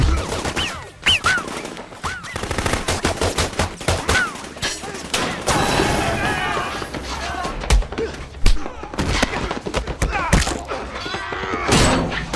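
Heavy-weapons gunfire erupts in a TV show fight as drug dealers open up on a bulletproof man, with dense, continuous bursts of automatic fire and booming impacts filling the scene, while voices are briefly heard between shots.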